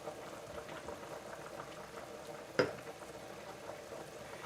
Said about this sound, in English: I mean, we've got bubbles coming up. It's aerated.